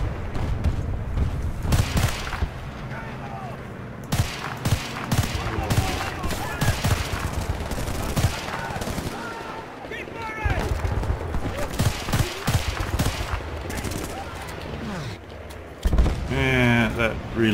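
Semi-automatic weapon fire in Battlefield Bad Company 2, a steady stream of sharp single shots and distant bursts throughout a busy battle, with in-game voices speaking over the gunfire.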